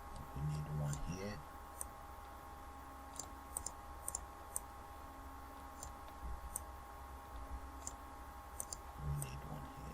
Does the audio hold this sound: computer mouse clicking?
yes